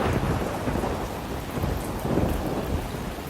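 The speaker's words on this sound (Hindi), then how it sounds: "घर पर आते ही भयंकर बारिश शुरू हो गई" Heavy rain pours down steadily, with deep rumbling thunder rolling underneath throughout.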